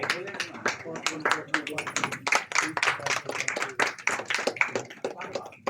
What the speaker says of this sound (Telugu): అవసరమైనప్పుడు మనం మృదుమధురంగా చప్పట్లు శబ్దాన్ని ప్రయోగిద్దాము